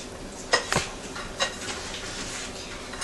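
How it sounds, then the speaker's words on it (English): Nuts tossed in a bowl with a spatula or spoon: a few quick scraping clatters and knocks, close and fairly loud, then a quieter stretch of light rustling. "toss it around, which we are going to need a spatula or a spoon"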